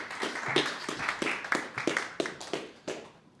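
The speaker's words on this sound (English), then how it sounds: "round of applause for Will" A small audience at a talk on financial planning for software sales professionals gives a thin round of applause, a handful of distinct, fairly quiet claps spaced unevenly before fading out.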